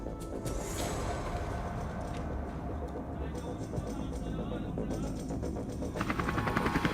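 Several firefighting helicopters working over a forest fire site during a wildfire response drill, a steady loud rotor drone filling the scene throughout, with a radio-style voice talking over it.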